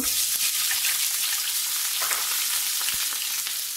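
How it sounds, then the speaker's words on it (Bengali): Chopped onions fry in hot oil for biryani, giving a steady, close sizzle and crackle throughout with a few light stirring scrapes and no talk. "পেঁয়াজ কুচি দিয়ে দেব,"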